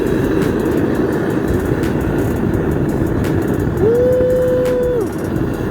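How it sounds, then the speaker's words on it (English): A propane burner roars steadily in a homemade medium metal-melting furnace, a dense continuous broadband rush held loud for the whole stretch, with a brief tonal whistle near the end. "I decided to fire up my propane burner, my propane furnace"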